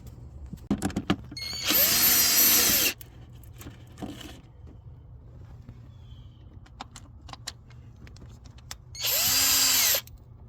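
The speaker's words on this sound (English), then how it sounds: "Now I'm removing that bolt down there that's holding this on, and I'm using 10 millimeter with an extension and a reducer on it." A power tool driving a 10 mm socket with an extension and reducer to remove a bolt on a 2001 Lexus LS430 during oil control valve replacement, heard as two loud close whirring bursts, with metallic clinks and tool handling between them and no talk.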